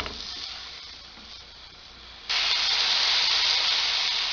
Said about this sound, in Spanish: Colocamos al fuego una cacerola bien caliente y vamos a sellarlo por todas las caras.